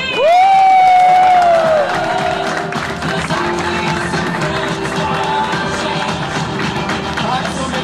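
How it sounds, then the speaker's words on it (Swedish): A stand-up comedy crowd bursts into warm applause and cheering for a comedian being introduced, with whoops and shouts over dense clapping, loud at first and then settling into a steady roar. "här har vi en stor varm applåd för Marcus Nordqvist!"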